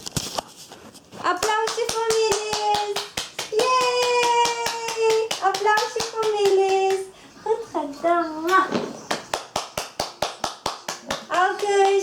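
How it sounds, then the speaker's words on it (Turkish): A family claps for a young girl at home, bursts of sharp hand claps alternating with a child's sing-song voice and adult talk, the claps quickening into a rapid run near the end. "Melis'e alkış."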